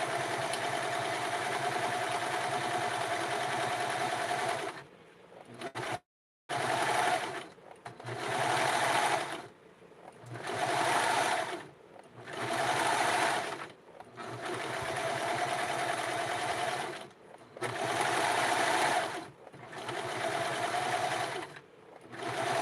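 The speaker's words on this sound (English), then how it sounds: "So I'm going to use a serger around the hem." A serger stitches around a hem of a Barbie doll garment, its motor whirring in a steady close buzz through about eight bursts of varying length separated by short pauses, with no voices.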